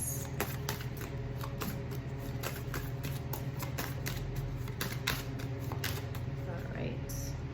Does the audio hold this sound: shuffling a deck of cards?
yes